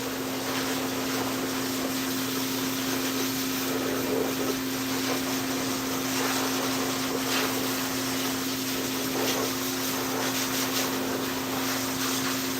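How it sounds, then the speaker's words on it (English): A steady, loud mechanical whine and roar of a high velocity pet dryer, turned all the way down, blowing continuously while grooming a cat, with a constant pitched hum underneath and no pauses. "So I'm using the high velocity dryer, but I have it turned all the way down."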